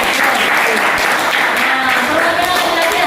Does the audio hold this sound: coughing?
no